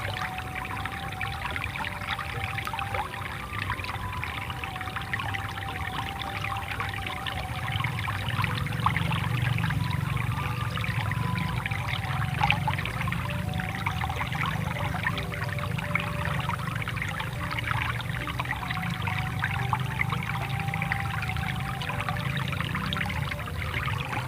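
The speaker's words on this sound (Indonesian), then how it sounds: "kita bilas, tinggal kita bilas pakai air bersih" Clean water pouring steadily over freshly gathered wild straw mushrooms as they are rinsed, a continuous splashing stream lasting the whole stretch with no talk.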